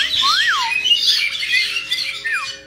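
Pet birds at a bath and play table squawking, with loud close whistling swoops and chattering calls in a burst near the start and another toward the end, over quiet background.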